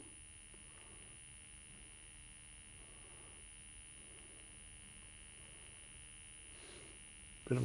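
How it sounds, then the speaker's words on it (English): A Multitech Micro Professor MPF-III computer, under repair for a ROM:E10 error, gives off a faint, steady buzz with a constant tonal hum at power-on, and a louder click comes at the very end. "Bit of a buzzing sound."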